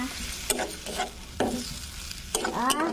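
Chili and turmeric paste with a little water stirred in a pan for a spicy silver fish curry: several distinct scraping spoon strokes, close and fairly loud, over a soft continuous sizzle.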